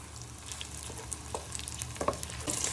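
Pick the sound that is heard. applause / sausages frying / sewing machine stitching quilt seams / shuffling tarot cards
sausages frying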